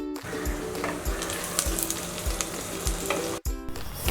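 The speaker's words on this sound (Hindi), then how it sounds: "अब इसको चलाते हुए फ्राई कर लेना है जब तक कि ये गोल्डन नहीं हो जाते" Thinly sliced onions fry in hot oil while being stirred, a loud, dense crackling sizzle up close, with regular scraping strokes of a spoon and a brief dropout near the end.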